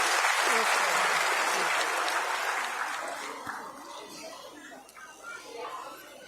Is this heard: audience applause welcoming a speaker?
yes